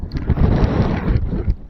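Strong wind gusting across a microphone in an open cemetery among old stone vaults, a dense, steady low roar with buffeting that swells and dips throughout, no voice over it.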